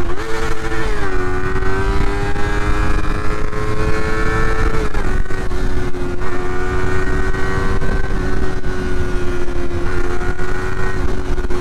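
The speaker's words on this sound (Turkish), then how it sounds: "İğrenç bir egzoz sesi var. Tam bir stok egzoz gibi çıkıyor." A motorcycle engine with a stock exhaust drones steadily throughout, its pitch dipping and rising slightly as the rider shifts, loud and close with a harsh, buzzy tone.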